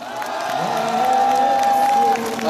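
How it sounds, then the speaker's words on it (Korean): Crowd at an outdoor political rally in cold weather applauding and cheering, a steady dense roar of claps and voices with a sustained whistle or tone running through it. "격려의 박수 좀 부탁드립니다."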